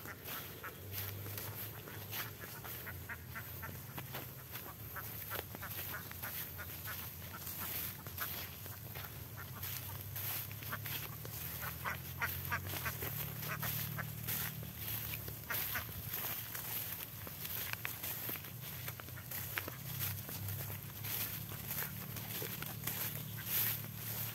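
A flock of ducks quacking steadily and close by as they are herded toward a river, the calls continuous and layered over outdoor noise for the whole stretch.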